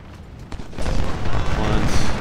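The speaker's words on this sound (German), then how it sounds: "Kanone bitte darauf schießen." Rapid bursts of heavy cannon fire and booming blasts in Ultimate General: Civil War, the Battle of Perryville, build into a dense, continuous barrage.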